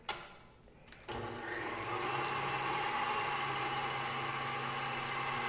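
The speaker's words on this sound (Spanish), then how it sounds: "Y vamos a comenzar a batir." Electric mixer starting to whip well-chilled cream for a strawberries-and-cream dessert, a brief clatter then a loud, steady whirring drone holding constant close by, with no voices.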